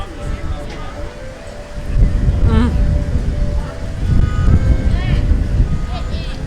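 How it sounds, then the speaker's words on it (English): Strong gusty wind buffets the microphone outdoors at Epcot, a steady low rumble that swells louder in the middle and later, with people talking throughout. "it's very windy here"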